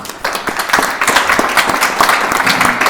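Dense, sustained audience applause at a town board candidates' meeting, many hands clapping at once in a loud, steady wash that builds slightly as it continues.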